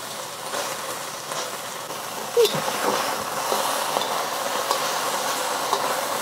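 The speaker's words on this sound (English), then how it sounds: "I'm gonna do about half the beef. Just gonna spread it out and let it sear on one side before moving it around." Beef spread out in hot oil in a wok sears with a steady, close sizzle, broken by occasional scraping and stirring clinks.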